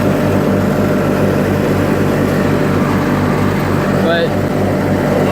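A 1986 John Deere 318 mowing tractor's engine runs loud and steady, with a rhythmic pulsing drone throughout and no pauses.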